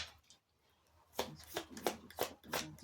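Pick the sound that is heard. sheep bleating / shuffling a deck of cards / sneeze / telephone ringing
shuffling a deck of cards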